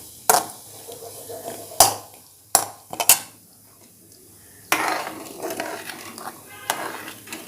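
Rice payasam being stirred in a pan, with sharp clinks of a spoon against metal and quieter scraping strokes between them, close and fairly loud, no voice.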